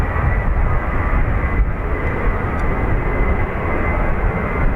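A Ryanair airliner departing Dublin Airport bound for Malaga gives a loud, steady jet roar with dense low rumble throughout, heard close up and uninterrupted.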